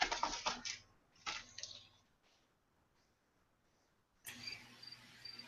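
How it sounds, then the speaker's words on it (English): Crickets outside a window chirp in rapid, evenly repeating high pulses, heard faintly through a voice chat microphone after some brief muffled voices. "No, I can like literally hear crickets."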